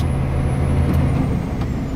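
A 2008 Scania R420 truck with over a million kilometres on it labours up a hill, its engine a steady, close, heavy low drone with a brief hiss partway through and no talk.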